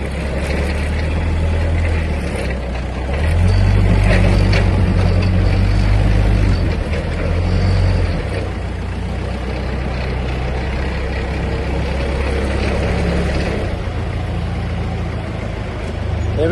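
A Massey Ferguson 135 tractor engine runs while towing, a loud low rumble that swells and eases as the load changes and fills the whole stretch.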